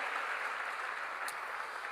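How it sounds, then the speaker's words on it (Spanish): A church congregation claps during a Spanish-language sermon, producing a steady, fairly faint wash of applause for two seconds with no voices over it. "Démosle un fuerte aplauso al Señor."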